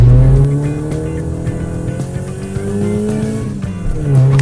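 A Honda Brio with a CVT and cutback exhaust revs loudly and close, its engine note rising and falling steadily throughout with a deep, continuous drone.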